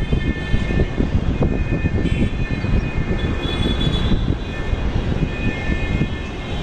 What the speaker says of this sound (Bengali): তো প্লেনটা ওদিকে তো উড়ে চলে গেল